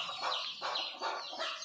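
Hens on a free-range poultry farm in Hyderabad cluck repeatedly in a steady rhythm, several short bursts close by over a faint background.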